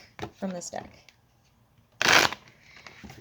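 A tarot deck shuffled and cards drawn close up, one sharp riffling burst and lighter card flicks, mixed with a voice talking nearby.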